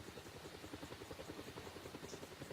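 In a video game, a helicopter's rotor beats in a fast, even chop under a low engine drone, a steady mid-level hum that continues without pause.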